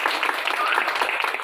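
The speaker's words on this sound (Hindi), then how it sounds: "इनके लिए जोरदार तालियां हो जाए" Dense, steady crowd applause at a Ganpati festival gathering honoring a guest, continuous and fairly loud throughout with no gaps.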